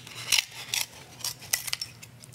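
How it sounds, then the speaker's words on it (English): Scissors snip a thin sheet of mica in several short, crisp cuts with brief pauses between, close and fairly quiet, no voices. "mica's nice because you can cut it just with scissors"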